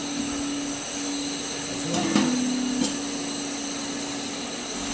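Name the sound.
Blastrac shot blasting machine on concrete floor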